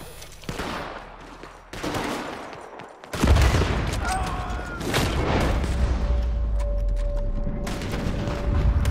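Gunfire in Red Dead Online crackles in sharp repeated shots that then swell into a heavy, sustained low rumble of rapid fire and booms, loud and close.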